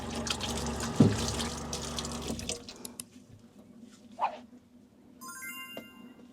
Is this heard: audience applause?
no